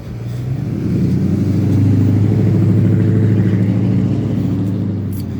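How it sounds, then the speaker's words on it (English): Car accelerating hard on a town street at night: a loud, close engine roar that swells steadily, holds at full throttle for several seconds, then eases slightly, with no talking. "The occupant in that vehicle, the driver, likes to go pretty fast and make themselves known by how fast they can accelerate, burning gas"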